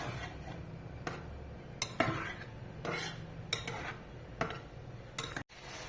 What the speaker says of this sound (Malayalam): ഇത് നന്നായി ഇളക്കി യോജിപ്പിച്ച് എടുക്കുക